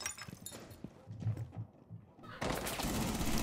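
Gunfire in the tactical shooter Rainbow Six Siege, a few sharp shots over busy game noise, followed by a louder, dense burst of sustained action near the end.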